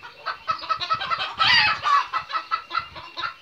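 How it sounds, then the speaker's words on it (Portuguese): Chickens cluck continuously in a busy, overlapping chorus, with one louder, sharper squawk rising briefly near the middle. "Não se preocupe com as galinhas, elas estão querendo aparecer."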